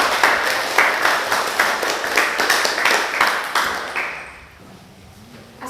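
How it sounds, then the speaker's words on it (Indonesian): Classroom applause for a student group: dense, close hand clapping from a room of students for about four seconds, then tapering off into quiet. "Tepuk tangan dulu untuk kelompok 1."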